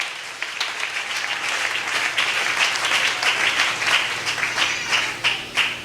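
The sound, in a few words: church congregation applauding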